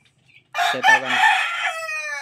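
A single rooster crows loudly and close by, a long drawn-out call after a brief quiet start.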